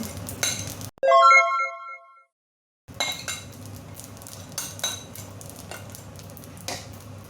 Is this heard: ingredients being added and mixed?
yes